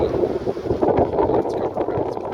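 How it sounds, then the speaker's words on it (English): Loud, continuous wind rumbles and buffets close to the microphone, with gusty swells throughout. "And the wind is blowing"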